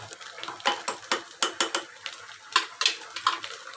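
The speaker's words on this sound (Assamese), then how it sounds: "ঘিউ দি পেলাই ভালদৰে লৰাই দিছোঁ" A metal spoon stirs ghee into soaked rice in a pot, making a quick rhythmic series of close scraping clinks against the pot, about a dozen strokes with no talking.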